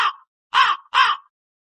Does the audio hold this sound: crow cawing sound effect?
yes